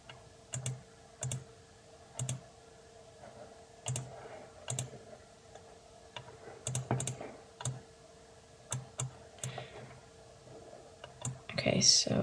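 Clicks of a computer mouse and keyboard while working in a video editor, sharp isolated taps at an irregular pace, close and fairly quiet, with speech woven between them.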